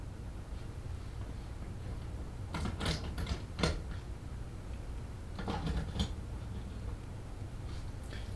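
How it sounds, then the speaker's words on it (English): Metal watch clasp being undone by hand, a few quick clicks and creaks close by, in two short bursts over steady low room hum. "Let me undo this clasp."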